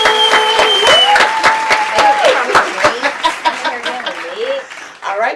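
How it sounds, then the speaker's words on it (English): A small audience at the close of a talk-show podcast episode claps for a guest named Bree, with sharp, scattered claps mixed with whoops and cheering voices that thin out toward the end. "I want to go ahead and clap it up for Bree."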